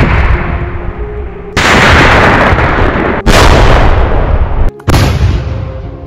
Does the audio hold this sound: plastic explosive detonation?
yes